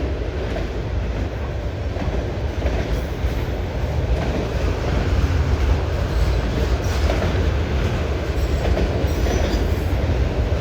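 A CN freight train carrying auto racks rolls past, its steady broadband rumble and wheel noise continuous and close throughout, with faint clicking from the rail joints.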